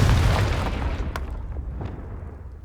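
A Confringo blast spell from Hogwarts Legacy bursts in a loud, deep boom that rolls out and fades over a couple of seconds, with faint scattered debris pops in the tail.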